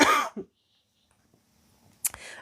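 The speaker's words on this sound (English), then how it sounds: "Sorry, human's going to cough again." A person coughs loudly up close, one harsh burst at the start with a short follow-up, then quiet before a second sharp cough near the end.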